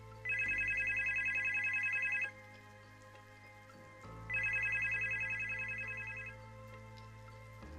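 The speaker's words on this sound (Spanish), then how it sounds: "sonó el teléfono." A telephone rings in two long bursts of about two seconds each, separated by a pause, loud and close over a steady low hum in a dramatized radio-style story.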